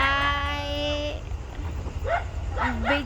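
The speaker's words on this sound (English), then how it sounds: "as you can hear, there's a lot of barking" A miniature dog barks in short, high yapping bursts near a farm plot, following a sustained tonal whine at the start, with faint background noise throughout.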